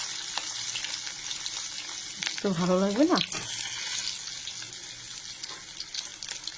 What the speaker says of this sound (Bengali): একটা করে আমি ভাজবো